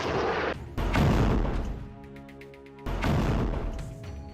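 A Hezbollah barrage of Katyusha rockets is launched in bursts, each one a loud roaring whoosh with a rumbling blast. A quieter gap between the two main bursts carries a faint tonal hum.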